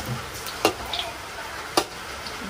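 Duck meat with garlic stir-frying in a pan gives a steady low sizzle, broken by two sharp clacks of a utensil against the pan.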